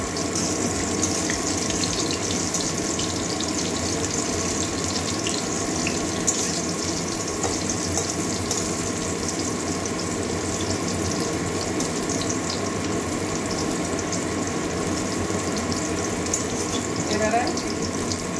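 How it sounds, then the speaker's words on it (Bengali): Bitter gourd slices frying in oil in a pan until reddish-brown, a dense, steady sizzle filling the space close up, with faint speech in the background. "উচ্ছেগুলো বেশ লাল লাল করে ভাজা হয়ে গেছে।"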